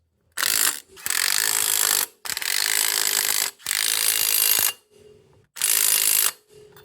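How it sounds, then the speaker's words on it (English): Lug nuts on a four-wheeler wheel are tightened in four loud, close bursts of rasping ratcheting, each lasting about a second or two, separated by short pauses. "now we gotta put all these lug nuts on there, tighten them down"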